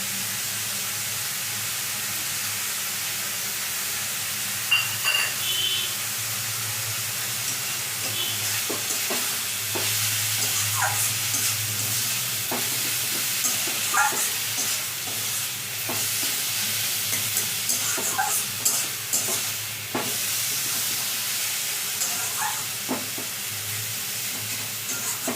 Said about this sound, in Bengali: সজনে শাকটা ভাজা হয়ে গেছে